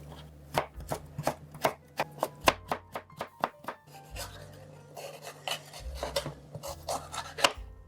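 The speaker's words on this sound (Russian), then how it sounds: "Морковь режу брусочками." Carrots cut into sticks with a knife on a board, a series of crisp, close chopping strokes in an irregular rhythm with short pauses, alone without talk.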